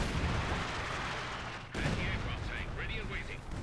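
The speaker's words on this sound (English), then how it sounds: "Come on, light artillery barrage. Oh, there we go. Artillery came in." A light artillery barrage in the World War II strategy game Company of Heroes 2, heard as a rumbling series of blasts and booms, with a sharp break midway followed by further impacts and whistling debris.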